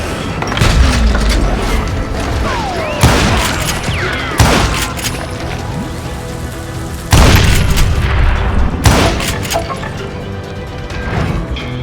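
Gunfire in the Western shooter Call of Juarez: Gunslinger comes as several loud, booming gunshots and crashing impacts at irregular intervals over a continuous background of music and ambient game sound.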